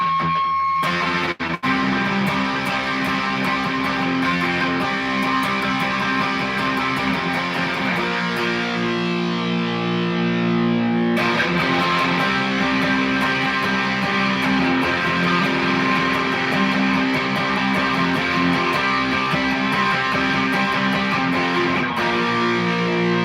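A heavily distorted electric guitar with a P90 pickup plays sustained, saturated chords and notes, loud and continuous, with a short break partway through before ringing on.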